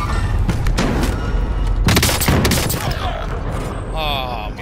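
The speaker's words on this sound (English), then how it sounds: "Oh, yeah, shotgun!" Shotgun blasts and heavy gunfire boom loudly in Call of Duty: Modern Warfare, several sharp bursts over a dense roar of game effects, with voices faintly underneath.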